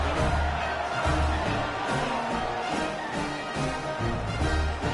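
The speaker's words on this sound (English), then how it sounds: "this crowd is buzzing after that last score." Football stadium crowd at a Norfolk State versus Texas Southern college game, a dense, continuous roar that keeps swelling and fading after a touchdown and extra point, heard from a distance and without clear individual voices.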